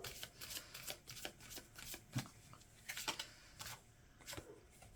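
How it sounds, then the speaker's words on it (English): Oracle cards are shuffled by hand, with a run of crisp riffles and flicks in an uneven rhythm that ends in a card being drawn, close and quiet, without talk. "let's get you an animal advice card before we go into best actions"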